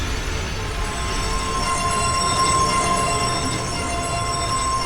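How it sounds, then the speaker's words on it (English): A train slows to a stop in a Roblox game, its wheels squealing in a sustained high, tonal screech over a steady rumble, close and loud with no speech. "it is really cool to listen to the train squeal really loud"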